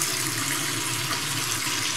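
Hot water gushes from a tap into a sink, an even, close rushing stream that holds steady throughout.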